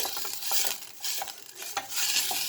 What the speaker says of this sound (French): Et je vais laisser mes oignons cuire tout doucement